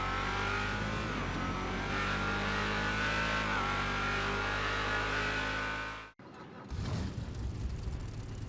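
A supercharged Gauntlet Hellfire V8 in GTA Online idles with a loud, deep, steady rumble that rises and falls slightly, then cuts off abruptly before a rough, throaty rev kicks back in.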